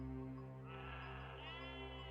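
A sheep bleats in a long, wavering cry, close and fairly faint, with no voices around it.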